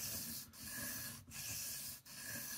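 Knife blade drawn across a sharpening stone in three repeated rasping strokes with short pauses between them, close and fairly quiet, no talk.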